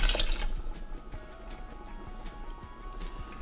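About one and a half cups of water is poured into a pot of chili made with plum tomatoes, diced tomatoes and beef base. A short splash at the start is followed by light scattered drips, close and fairly quiet.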